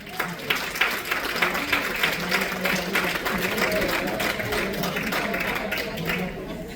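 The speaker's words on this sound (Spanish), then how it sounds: "dale un fuerte aplauso, Señor" A church congregation applauding, steady dense clapping from a crowd filling the room, with a voice talking over it.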